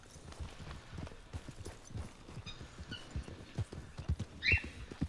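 Horse hooves in the video game Red Dead Redemption 2, a fast irregular clip-clop of galloping steps, fairly close, ending with a short whinny near the end.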